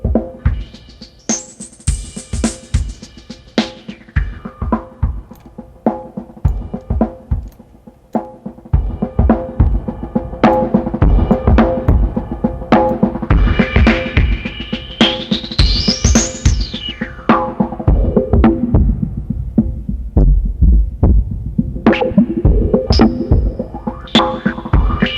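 A TC Electronic Resfilter plugin sweeps a resonant filter's cutoff across a rhythmic throbbing synth loop, the whistling peak gliding up and down through the pulsing beat.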